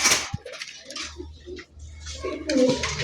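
Raj Golla pigeons kept for sale make soft, low cooing murmurs at a moderate distance, broken by a clatter near the start and scattered small knocks like dishes or cage bits.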